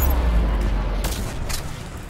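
Heavy gunfire in the video game Mass Effect 3 comes as a dense, loud rumble of blasts with a couple of sharp cracks standing out, close and continuous through the moment.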